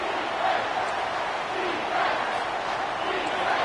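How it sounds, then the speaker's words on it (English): A college football stadium crowd roaring on third down in an Alabama versus Florida game, a sustained loud swell of massed cheering that rises and falls slightly, heard at a distance. "this crowd is tearing the lid off this place"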